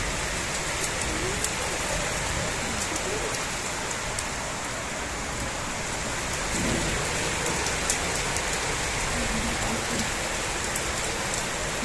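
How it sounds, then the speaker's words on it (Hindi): Heavy monsoon downpour during a nighttime thunderstorm, a dense, loud, unbroken roar of rain with low thunder rumbling beneath it. "अभी बहुत तेज बारिश हो रही है, बहुत ज़्यादा, कुछ नज़र नहीं आ रहा। लाइट भी चली गई है सब जगह, सिर्फ अंधेरा है एकदम। बाप रे, बिजली भी कड़क रही है।"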